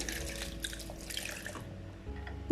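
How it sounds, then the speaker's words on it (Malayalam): Chilled milk poured into a blender jar for a bottle gourd milkshake, a continuous splashing liquid stream that thins out toward the end, heard alone with a light knock at the close. "ആ പാലൊഴിച്ചു കൊടുക്കാം"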